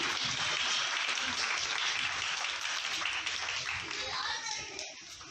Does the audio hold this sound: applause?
yes